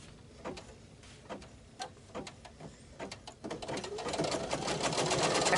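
A sewing machine stitches a tack-down on a circles quilt square, starting with slow, spaced needle thumps that quicken into a steady, denser rapid stitching rhythm close by.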